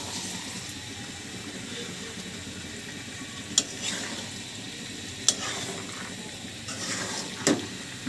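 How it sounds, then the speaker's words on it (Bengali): Beef kala bhuna with dried chillies sizzles softly in a pan, a quiet steady frying hiss broken by a few sharp scrapes and clinks as it is stirred. "আমার কালাবোনা কতগুলো শুকনো মরিচ দিয়ে দিলাম, একটু বাদামি কালার হলেই"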